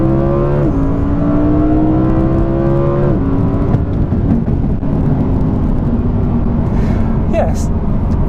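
A 2019 Audi R8 supercar accelerates hard to overtake, its engine note climbing through gears in rising sweeps with a gearshift drop, loud and close inside the cabin over steady road roar; a voice talks briefly.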